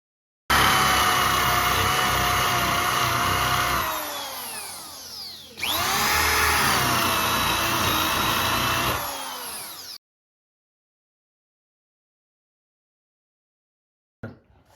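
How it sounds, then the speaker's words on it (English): A power drill whines loudly in two long bursts with a short pause between while drilling stair treads for balusters, then cuts off into silence. "And then I just drill like that all the way up."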